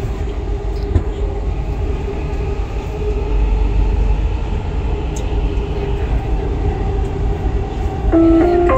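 A train runs on rails with a steady, loud rolling rumble that holds throughout and swells slightly near the end, with no talking.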